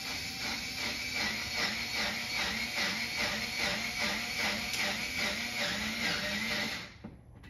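Screws are driven into a wall to mount a J-channel for hanging comics, with a steady, loud whirring drive pulsing in a regular rhythm before it cuts off near the end.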